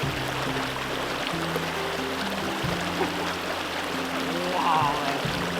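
A cold stream on public land in Wyoming flows steadily and close by, a constant rushing burble with low tonal sounds underneath and a brief swell near the end.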